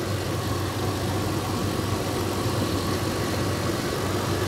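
A car engine idles steadily during a compression diagnosis for an engine with 175 PSI compression but still running poorly, producing a constant, loud, even rumble with no talk.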